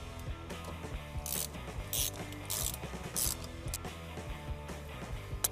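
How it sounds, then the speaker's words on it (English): A 15mm socket ratchet loosens the steering wheel bolt on a 1987-1989 Fox Body Mustang 5.0, giving quiet, repeated clicking pawl strokes with a few brighter metallic rasps, close up and with no talk. "then we can use a 15mm socket to break that bolt loose"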